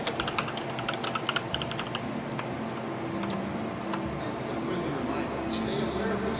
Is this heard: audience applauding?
no